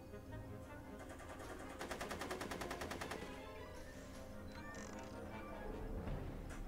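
Rapid machine-gun fire from the Back to the Future adventure video game, a fast even burst of repeated shots lasting about a second and a half over steady game ambience, with scattered further pops afterward.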